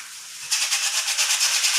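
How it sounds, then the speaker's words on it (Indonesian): Sandpaper rubbed along the sides of a betung bamboo piece, a rhythmic series of close, scratchy strokes that start suddenly after a quiet moment and continue steadily with no talk. "saya akan haluskan sisinya pemirsa. Kiri dan kanan ini dihaluskan sampai halus."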